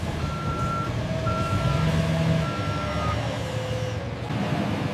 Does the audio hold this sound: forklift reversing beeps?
yes